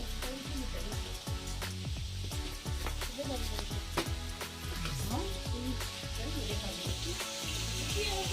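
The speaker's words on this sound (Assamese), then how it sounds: "ইয়াতে আমাৰ মাছ ভাজি আছে।" Fish frying in a home kitchen pan, a steady dense sizzle running throughout with clinks and scraping of a utensil scattered across it; no one speaks.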